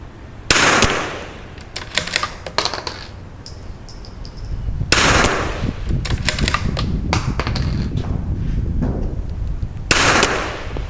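Loud sharp rifle shots crack at a long-range target outdoors, three main reports spaced several seconds apart, each followed by clattering echoes and handling noise.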